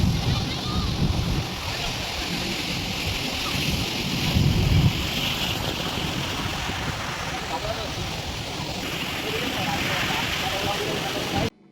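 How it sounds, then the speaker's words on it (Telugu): Ocean surf at Eden Beach in Pondicherry rolls in as a loud, continuous wash of breaking waves, with wind buffeting the microphone and a voice speaking over it. "మన చుట్టంతా నిశ్శబ్దంగా ఉండి అలల సౌండ్ మాత్రమే వినబడుతుంది."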